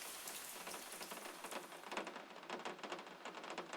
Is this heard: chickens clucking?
no